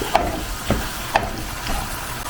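Tomato sauce with garlic and oil being stirred in a pan, a soft continuous sizzle with a few light spoon scrapes spaced across the short moment, close and fairly quiet, no voices.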